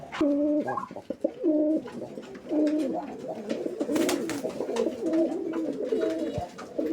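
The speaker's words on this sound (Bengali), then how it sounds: "আপনারা কবুতরের জোড়াটি দেখেন" Pigeons coo repeatedly in soft, throaty phrases close by, overlapping one another with occasional flutters and clicks.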